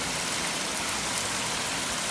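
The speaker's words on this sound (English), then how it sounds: "It's pouring down raining. It is raining. I mean hard. Torrential downpour, baby." Torrential downpour outdoors, a loud dense continuous hiss of heavy rain pounding surfaces, steady throughout with no voices.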